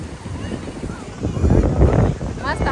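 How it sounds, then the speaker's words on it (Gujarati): Steady wind rushing across the microphone at Suvali Beach near Surat, Gujarat, India, with the low roar of surf swelling in the middle and voices faintly underneath. "પવન એ ઠંડો ઠંડો એટલો સરસ લાગે છે"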